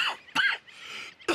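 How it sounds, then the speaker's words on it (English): A man in the Red Dead Redemption video game, ill with advanced tuberculosis, coughs three times in harsh, hacking bursts, close and fairly loud, with no talk. "It's quite a cough."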